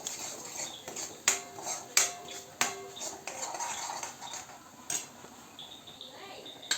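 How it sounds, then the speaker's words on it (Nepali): Paneer curry gravy stirred in a metal pan, a spoon knocking and clinking against the rim in sharp irregular taps, with quiet talk in between. "अब यसलाई म चाहिँ मजाले चलाउँदै पकाउँछु"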